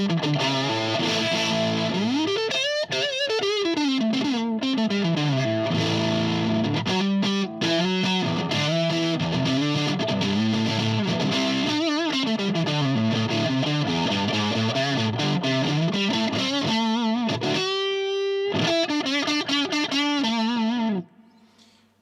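An electric guitar plays through a DOD 250 Overdrive pedal with the gain at full, giving a thick, fuzzy distorted tone. The sustained melodic lines and bends stay loud and close for about twenty seconds before cutting off.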